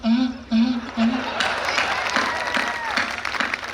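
Audience at a Hindi comic poetry gathering claps after a voice chants a few rhythmic syllables, then a loud sustained wash of applause and crowd noise fills the rest.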